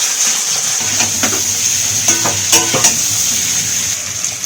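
Potatoes frying in hot oil for a spiced potato dish, a loud continuous sizzle with several clinking stirs of a spoon against the pan, close up.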